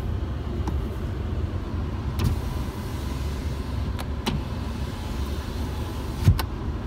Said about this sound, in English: this is the window in the back. Now, what I said before, look how fast this goes.